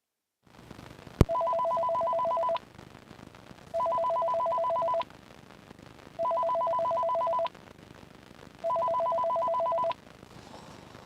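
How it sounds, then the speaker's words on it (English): An office telephone rings in four long electronic bursts spaced evenly apart, each a steady warbling tone of about a second and a half, clear and fairly close with quiet room noise between rings. "That phone was ringing."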